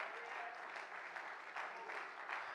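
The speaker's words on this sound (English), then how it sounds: "Oh, clap your hands and praise him today." A church congregation claps their hands during a Sunday family worship service: soft, steady, fairly distant clapping that continues throughout without a break.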